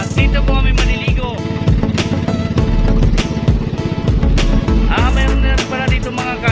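A boat's motor runs loud and close at sea off Sorsogon, a steady rough thrumming engine drone with rattling pulses throughout.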